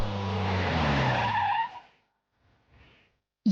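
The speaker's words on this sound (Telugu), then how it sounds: "ఏ డ్రైవర్, కారు ఆపు, ఆపు, ఆపురా" A car skids to a sudden stop, its tires squealing loudly for about a second and a half before the noise cuts out, leaving a brief quiet with faint movement afterward.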